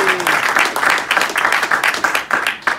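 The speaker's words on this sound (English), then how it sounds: "just a quick round of applause for the newly crowned WBO Middleweight Champion of the World, Demetrius "Boo-Boo" Andrade." Audience at a boxing press conference applauds the newly crowned WBO middleweight champion, a brief round of fairly close, pulsing clapping from a small crowd.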